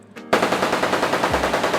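Rapid automatic gunfire bursts loudly and close at a shooting range at the Cu Chi Tunnels in Vietnam, a sustained rattling string of shots after a brief quieter lead-in, with no talking.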